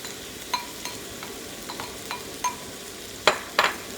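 Pork and pickled bamboo shoots stir-fried in a pan with little oil, giving soft scattered scrapes and clinks of a utensil against the pan, with two louder scraping strokes near the end over a faint low sizzle.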